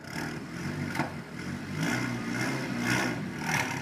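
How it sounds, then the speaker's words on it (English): A car engine fitted with a stock OEM airbox and high-flow K&N drop-in filter revs repeatedly, several rising bursts over a rough idle, heard close and fairly loud. "JM, give me a rev."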